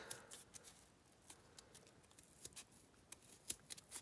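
Scissors trim paper for a handmade cannon model, giving a quiet series of short, irregular snips and crisp paper rustles close up, with no voice over them.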